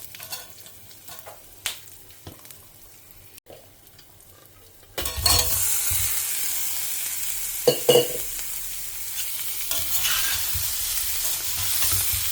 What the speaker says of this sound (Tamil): இதை போட்டு நம்ம ஆலு ஃப்ரை பண்ணிட்டுலாம்.